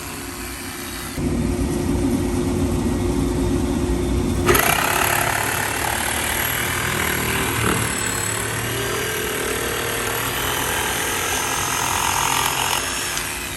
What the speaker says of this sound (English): This is a sander.